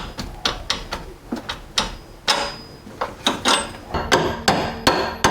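Repeated sharp metal hammer strikes knocking out the lower strut bolt on a Ford Falcon BA/BF front suspension, a dozen or so uneven blows close by with ringing metallic decay and no talk.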